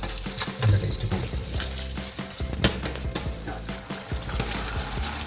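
Beef vindaloo fries in a pan while being stirred, giving a dense steady sizzle broken by frequent clattering spoon strokes against the pan, close and continuous.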